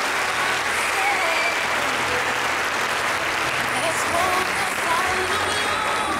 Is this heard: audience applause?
yes